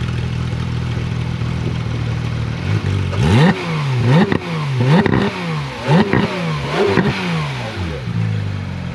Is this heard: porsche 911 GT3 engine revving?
yes